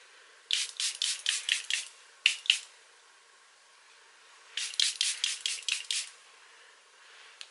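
A Charlotte Tilbury setting spray bottle is shaken and sprayed: a quick run of crisp, hissing spritzes, a short pause with two more, then another rapid burst of mists, all close and with no talk.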